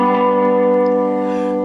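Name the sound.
lap steel guitar lick skipping over strings 3 and 4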